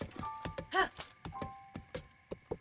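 A horse's hooves clop at a steady trot in The Legend of Zelda: Breath of the Wild, sharp regular footfalls close by, with a brief chiming tone in the middle.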